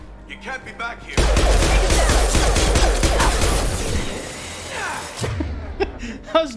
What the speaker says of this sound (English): How does nobody hear this gunfire?